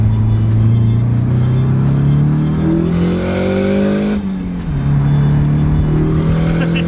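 Turbocharged single-rotor Mazda Speedster engine revving hard up close, a loud buzzing drone that climbs in pitch, dips briefly as the throttle lifts with a wastegate release, then steadies again.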